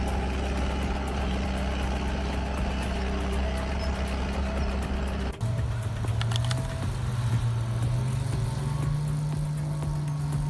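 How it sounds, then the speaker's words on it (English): A Euclid TC12 twin-engine earth-pushing bulldozer runs with a steady, droning engine rumble that stays loud and continuous, shifting to a slightly higher, rising engine tone partway through. "Meet the Euclid TC12, a twin-engine earth-pushing beast that doesn't just move dirt, it dominates it"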